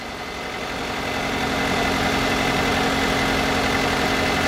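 A car engine idles steadily while its alternator is tested, a continuous close, even hum that holds at a constant level and grows slightly louder over the first seconds, with no voices.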